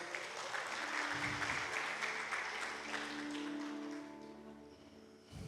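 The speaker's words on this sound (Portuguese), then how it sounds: "Se assente, se você pode, aplaudir ao Senhor" Church congregation at a Sunday service applauds steadily, a thick wash of clapping that holds for several seconds before thinning out near the end, with organ-like sustained tones underneath.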